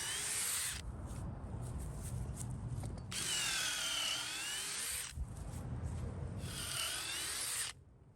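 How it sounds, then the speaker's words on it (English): A power drill with a 3/8 bit bores through the outer timber of a wooden A-frame swing set. There are two long, steady, loud high whines, each preceded by a lower grinding run as the bit chews through the wood. "we re-drill all these holes through just the outer piece"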